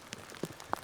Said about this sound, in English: on days like today when it's raining